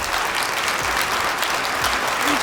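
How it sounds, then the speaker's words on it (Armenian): A studio audience at the Got Talent Armenia quarterfinal claps loudly and continuously, a dense, even wash of applause with no break. "Ինչպեսի ծափահարությունն է"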